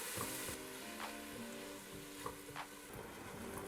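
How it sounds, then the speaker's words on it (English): Steady, dense sizzling of Roma tomatoes frying in a hot pan until they release their juice, with occasional soft pops and crackles, close and continuous. "We cook until the tomato releases all its juice."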